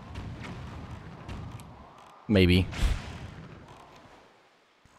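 A ship's cannon fires once in The Legend of Zelda: The Wind Waker HD, a loud, close boom with a short ringing tail, surrounded by sea and sailing ambience and a player's talk.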